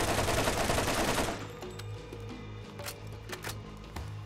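Borderlands gunfire opens with a dense burst of rapid shots that gives way to scattered single clicks and pops at moderate volume, with no speech.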